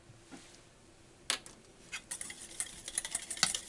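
Soft scraping and clinking of a utensil stirring hollandaise sauce in a bowl, quiet at first, then a quick rhythmic series of light taps and swishes.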